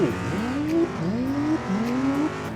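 Race car engine in Car Mechanic Simulator 2021 revving hard through three rising pitch sweeps, each climbing then dropping as the gears shift, loud and close with no talk.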